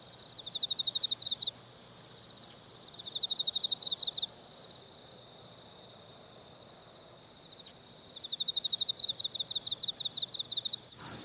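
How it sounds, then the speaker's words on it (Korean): A male cricket sings in three bursts of rapid, pulsing chirps, each a couple of seconds long, separated by pauses over a faint steady background hum. "이 수컷 귀뚜라미의 노래는 어떤 특징을 가지고 있을까요?"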